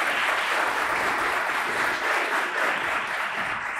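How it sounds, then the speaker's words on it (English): At a senior class night, graduates applaud the parents in the room, a loud, even roar of many hands clapping together that holds steady through the whole short stretch. "Graduates, please give them an applause."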